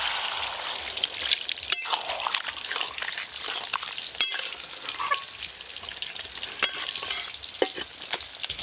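Mixed vegetables with slit green chillies fry quietly in a pan as a spatula stirs them, giving a soft, even sizzle with scattered scraping clicks and light taps heard up close.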